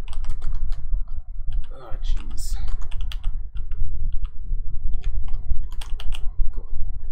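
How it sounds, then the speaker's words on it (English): Rapid clattering keystrokes on a computer keyboard while coding an HTML5 canvas game, close and steady throughout, with someone briefly speaking over the typing. "This isn't even my first time typing"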